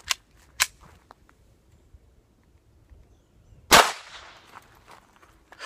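A single sharp .22 caliber gunshot fired from about seven yards at homemade body armor of ceramic plates and books, a loud close crack with a short ringing tail, preceded by a few small clicks and handling sounds.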